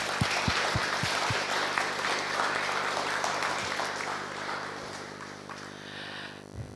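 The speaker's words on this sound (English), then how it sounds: "a big thank and a round of applause for all the volunteers" A crowd at a hackathon closing gives sustained applause for volunteers and the organizing team, dense steady clapping with a few sharp nearby claps at the start, gradually tapering off.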